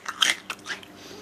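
Home-made curried nuts and bolts snack of Nutri-Grain cereal, coated in oil and curry powder, crunched in the mouth: a few quick crisp bites close to the microphone, quiet and brief.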